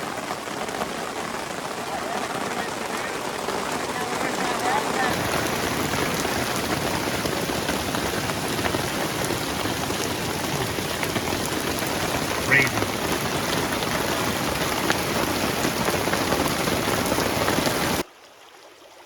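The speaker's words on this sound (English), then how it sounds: "A little bit of hail, some hard rain, a little flash flooding at the camp." Hard rain with hail pounds steadily on a backpacking camp tent during a mountain thunderstorm, a dense continuous roar that holds for about eighteen seconds before cutting off.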